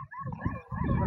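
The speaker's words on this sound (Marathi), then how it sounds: "ते मोठं कुत्रं आलं ते." A big dog gives a short, loud bark or howl-like cry close by during a rainy, muddy outdoor scene, with no talk over it.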